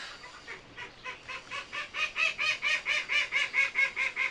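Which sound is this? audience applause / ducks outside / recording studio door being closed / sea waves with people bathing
ducks outside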